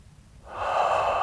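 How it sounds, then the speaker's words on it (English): A single deep breath, a breathy rushing inhale that swells in after a quiet moment and holds steady, close and fairly loud. "take some deep breaths, breathing deep into the pelvic floor"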